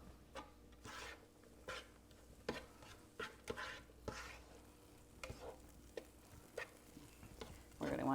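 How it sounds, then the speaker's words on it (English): Soy sauce stirred into a hot pan of shrimp fried rice, with scraping and stirring strokes and a soft sizzle repeating at an uneven rhythm, close and moderately quiet with no talking. "So now I'm going to add the 2 tablespoons of soy sauce."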